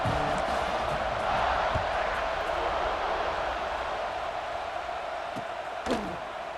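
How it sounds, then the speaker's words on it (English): Stadium crowd at a football game buzzing after a touchdown, a continuous broad murmur of many voices at moderate distance, steady with a faint sharp knock near the end. "this crowd is buzzing after that last score"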